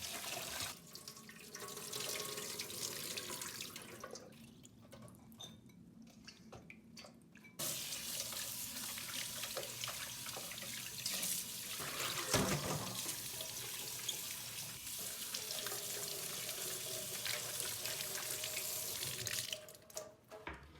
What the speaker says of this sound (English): Let's start by washing the vegetables.